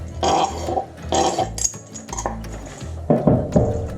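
Chunks of homemade paneer tipped into a pan of creamy cashew sauce, with several soft clattering bursts of pieces and utensil hitting the pan, separated by brief pauses, close and fairly loud.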